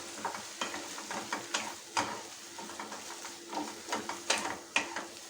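Kadai chicken gets stirred in a pan after an egg yolk is added, giving rhythmic scraping strokes about twice a second over a continuous sizzle, close and fairly clear, with no voices.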